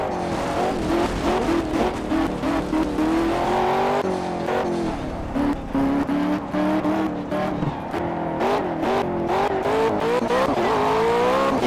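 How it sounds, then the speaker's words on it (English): Racing cars in the Forza video game, engines revving and tires squealing as they lose traction, with wavering engine tones and repeated bursts of skidding over a steady, loud game soundtrack. "Car lose traction."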